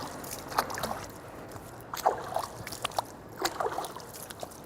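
Water splashes and trickles softly in short bursts, with intermittent sloshing as hands are rinsed up to the elbows during wudu, quiet and close.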